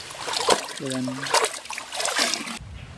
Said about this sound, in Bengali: এটা নোনা ভেটকি তো তাই মাছটাকে আমাদের ভালো করে ধুয়ে নিতে হবে